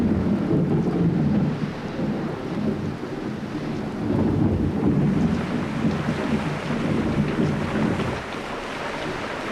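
A wind and rain storm roars with a deep, continuous rumble of thunder and gusting wind, loud and steady with swells in intensity.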